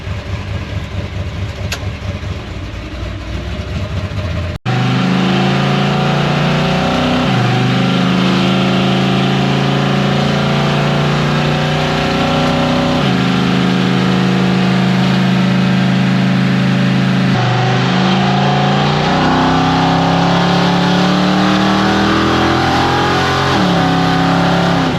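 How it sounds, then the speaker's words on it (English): Car engine on a first test drive, loud and close, revving and climbing through gears with repeated rising pitch sweeps over a constant rumbling drone. "We're going to go out for a first test drive with it and see how it reacts."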